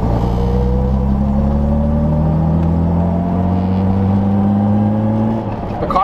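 A car fitted with lightweight flywheels accelerates hard on its first drive, engine note climbing steadily through a gear, loud and close, then dropping off with a shift near the end.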